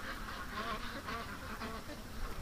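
Muscovy ducks in a pen give soft, repeated hoarse honking calls in short bursts over a low background hum. The calls are faint and fairly close, and no clear speech is heard.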